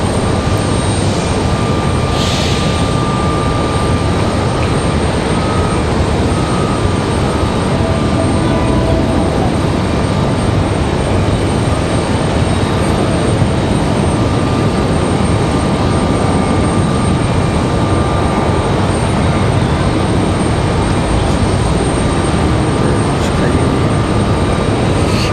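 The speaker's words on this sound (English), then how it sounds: "We've got Frontier coming in next. Frontier 3322 stretched." A Frontier Airlines A321 stretch jet arriving from Miami at Raleigh-Durham airport, a steady broad engine roar that holds loud and even throughout with no talk.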